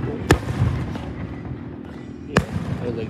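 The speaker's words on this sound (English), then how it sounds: "You want to get those fireworks?" Two sharp firework bangs go off a couple of seconds apart at an Independence Day celebration, loud and near, with a low background murmur between them.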